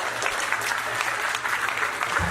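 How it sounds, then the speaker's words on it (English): Steady, dense applause from the audience at a Rotary district conference in Diani, a continuous wash of clapping throughout the short stretch. "Round of applause."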